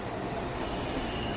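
A New York City subway Downtown Express 2 train approaches a station on the Rose Street line, producing a steady, broadband rumble that fills the moment without pause or clear rise.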